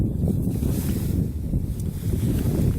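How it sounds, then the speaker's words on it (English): Strong wind buffets the microphone in heavy, rumbling gusts, loud and close, with no voices. "it's really windy today"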